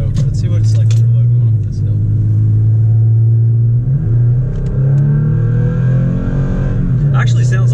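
A pickup truck, a 2016-or-later Toyota Tacoma with an aFe Hi-Tuck exhaust, drones deep and steady under load climbing a hill, the engine note rising and falling as it pulls, with people talking over it.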